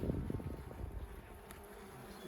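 A dense, steady buzzing of many honey bees swarming close by, continuous and low-pitched throughout.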